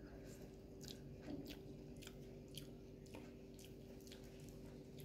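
Fried drumstick leaves eaten close to the mic: faint, repeated crunching and moist chewing bites at an irregular pace, set against a steady low background hum, quiet overall.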